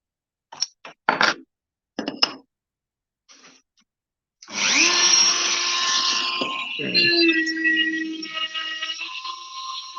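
A rotary tool with a fine burr grinds into wood, starting with a few short bursts and then settling into a sustained, fairly loud whine that wavers in pitch.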